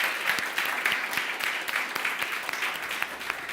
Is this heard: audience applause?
yes